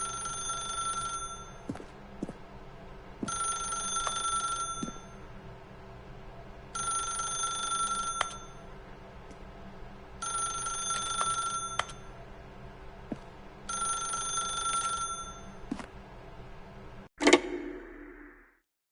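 An old-fashioned telephone bell in the video game The Stanley Parable, ringing in five regular bursts a few seconds apart over a quiet room hum, ending with a sharp clunk as the receiver is picked up.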